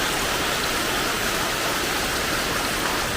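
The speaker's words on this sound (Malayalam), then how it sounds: "രാവിലെ നല്ല മഴയാണ്." Heavy morning rain falls steadily, a dense, even hiss of drops with no break or variation across the whole stretch, loud and close with no voices.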